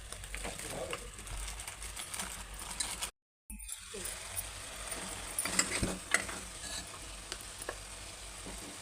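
Tomato gravy for paya sherwa, with chili powder and salt, is stirred in a pan: a quiet, faint sizzle with intermittent scraping and clicking strokes, broken by a brief full silence partway through.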